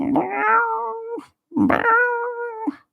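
Two long, loud, drawn-out cat yowls, each rising then wavering before trailing off, separated by a brief silence, close and alone.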